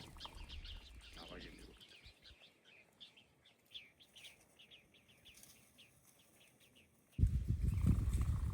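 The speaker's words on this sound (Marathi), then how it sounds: "या जाळीमध्ये भरपूरसे लावा पक्षी बसले होते आणि आमची चाहूल लागताच ते इथून आता उडून गेलेत." A flock of quail bursts from a thicket on the Rohida fort hillside near Pune: a short flurry of whirring wingbeats, then scattered high chirps over quiet open air, before a loud blast of wind-like rumble closes the clip.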